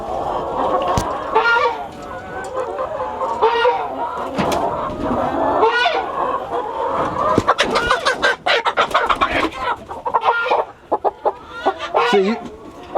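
Hens clucking on a farm, a busy close chorus of clucks and squawks rising and falling, with people talking among the birds.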